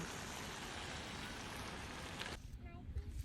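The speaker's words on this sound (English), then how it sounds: "it's a little bit sprinkly, sprinkle, rainy." Light rain sprinkling outdoors, a steady soft hiss of drizzle filling the air before cutting off near the end, where faint low sounds remain.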